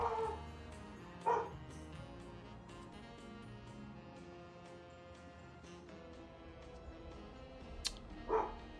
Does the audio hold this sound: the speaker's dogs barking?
yes